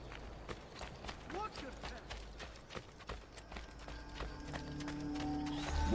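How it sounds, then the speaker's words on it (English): Quick rhythmic hoofbeats of a galloping horse in the video game Assassin's Creed: Brotherhood, fairly faint, with scattered game sound effects and tones building toward the end. "Alright, time to chase a horse."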